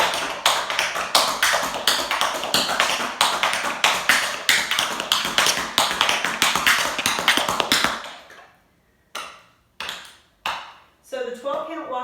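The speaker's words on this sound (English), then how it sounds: "So the 12-count walking riff sounds like this" A tap dancer performs a 12-count criss-cross walking riff: a fast, dense run of sharp, even shoe taps for about eight seconds, then a few separate, spaced-out clusters of taps near the end.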